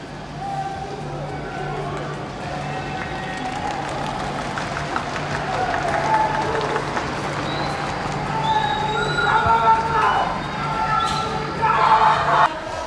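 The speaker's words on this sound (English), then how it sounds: "I don't exactly know why everyone's clapping." A street crowd during the Myanmar military coup claps and cheers steadily for the whole stretch, a dense continuous wash of applause and voices with a low steady hum beneath, swelling louder toward the end.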